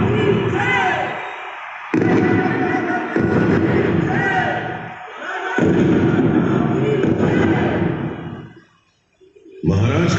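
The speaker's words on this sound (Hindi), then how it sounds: "महाराज गंगाधर राव को कड़क बिजली और भवानी शंकर धाम की तोपों से सलामी दी गई" Cannon salute effects in the light and sound show at Jhansi Fort land as several heavy booming bursts, each a few seconds apart, under and between amplified dramatic narration.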